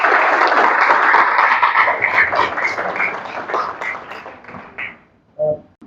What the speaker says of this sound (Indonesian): Tepuk tangan untuk Ardiansa.